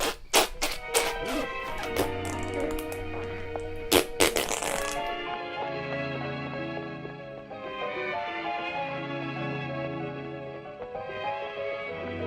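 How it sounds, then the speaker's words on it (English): A cartoonish fart sound effect erupts in a rapid string of sputtering blasts, then gives way to a sustained music-like tonal passage until the end. "pinch your nose tight. Here it comes. Fart 4."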